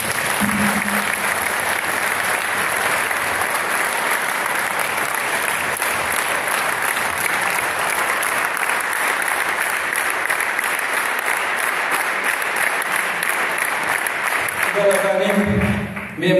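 An audience at a martyrs' memorial ceremony in Surakhani claps in a sustained, dense burst of applause that fills the room, with a voice briefly rising at the very end.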